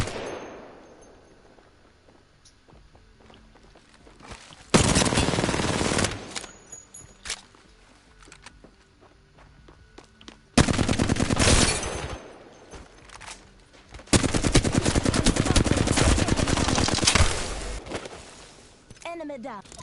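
Gunfire in Apex Legends comes in three loud, dense bursts of rapid shots separated by quieter gaps, with a voice talking over the action.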